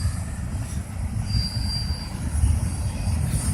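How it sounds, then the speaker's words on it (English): A big train rolls past nearby, with a steady heavy rumble of railcars and a faint high wheel squeal drifting over it, continuous for several seconds with no talking. "That's a big train."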